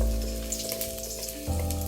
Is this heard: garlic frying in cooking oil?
yes